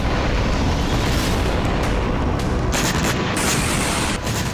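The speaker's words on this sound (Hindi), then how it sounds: "वीरान शहरों में धमाके हो रहे हैं।" Continuous loud rumbling blasts and booms from explosions in war-ravaged, deserted Ukrainian cities, a dense roar with sharper bursts midway and no voices.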